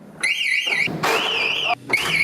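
A loud rooftop security alarm blares in piercing warbling bursts, three wailing pulses separated by brief gaps, close and harsh.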